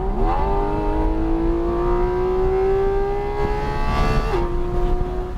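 Porsche Cayman GT4 RS accelerating hard on a race track, its engine note climbing steadily through the revs, loud and close, with a brief drop at a gear change near the end.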